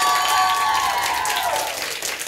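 Studio audience applause for a nominated musician on a French music show, a steady wash of clapping that fades slightly toward the end.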